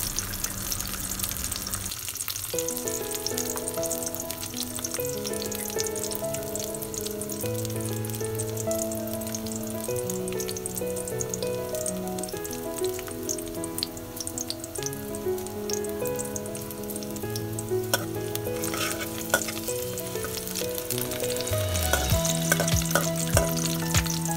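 Garlic sautéing in a pan until it browns, a steady sizzle and frying hiss running throughout, mostly buried under loud background music.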